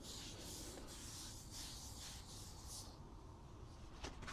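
Grout being wiped off tiles with a damp sponge or cloth in circular motions, a soft continuous scrubbing and rubbing close by that fades near the end, with a small knock at the finish.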